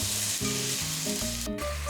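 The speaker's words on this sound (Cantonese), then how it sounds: "就可以落豬扒煎香" Marinated pork chops searing in hot oil in a Saladmaster pan over medium heat, giving a steady, close, continuous sizzle with faint clinks and no voices.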